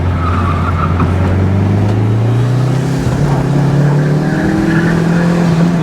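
A Mitsubishi Lancer Evo VI JDM rallies through a corner, its engine note climbing and shifting in pitch as it accelerates, loud and close, with faint tyre squeal over the steady drone.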